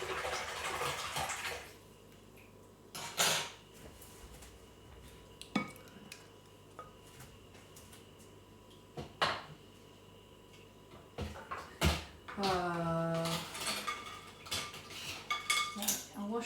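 A mixing bowl and mixer beaters are washed in water in a home kitchen, with close clinks and clanks of metal against the bowl, sloshing and splashing, and short rattling bursts.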